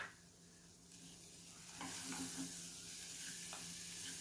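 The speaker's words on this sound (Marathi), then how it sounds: "आता यामध्ये मी सगळे ड्रायफ्रूट्स टाकते. तेही यामध्येच टाकते, म्हणजे तेही छान परतून होतील." Dry fruits (cashews, almonds and raisins) being stirred into coconut rice in a pan, a soft sizzle that swells with a few spatula scrapes and taps, quiet and close, with no talking.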